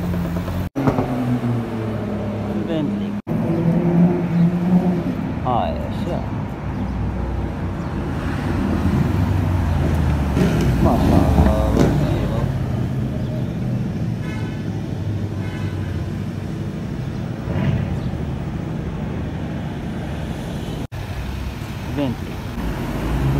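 Luxury cars, among them Bentleys and a Porsche, pass along a busy Casablanca street amid traffic noise, with engine rumble swelling and fading and a brief toot, while someone talks excitedly over the passing vehicles.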